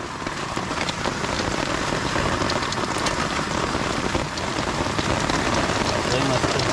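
Heavy rain pours down in a dense, constant roar, loud and close, continuing unbroken throughout.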